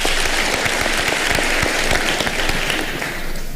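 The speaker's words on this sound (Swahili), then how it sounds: "Makofi." Steady applause from an audience at a public address honouring President Uhuru Kenyatta, a dense, even patter of many hands close by that holds at the same loudness throughout.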